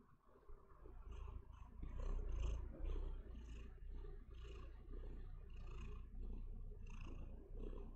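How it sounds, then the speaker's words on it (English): A pet cat purring steadily up close, a continuous low rumbling drone with slight rhythmic swells and no voices over it. "Nice kitty."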